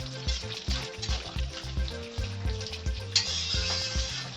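Fish head and Malabar spinach stems sizzle in a pan with a little added water, stirred steadily; a soft, continuous frying hiss with occasional scraping knocks, while a low rhythmic tone pulses beneath throughout.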